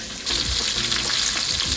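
Chicken fried steak frying in hot oil, a loud, bright sizzle that jumps up as the pieces go into the pan and then hisses steadily, close up, with no talking.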